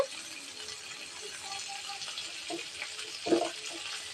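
A small splash of water is poured onto sour yogurt in a home kitchen, quiet trickling and faint clinks of a spoon or bowl, with a brief louder clatter near the end.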